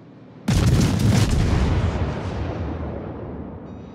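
A single heavy naval gun salvo in World of Warships booms out loud and close, then leaves a long rumbling tail that fades slowly.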